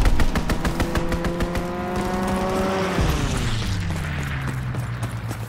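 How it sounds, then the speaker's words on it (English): An enemy aircraft makes a strafing run in Call of Duty: WWII, its engine roaring loud and close as the pitch drops sharply on the pass. Rapid machine-gun fire rattles throughout. "Enemy strafing run incoming"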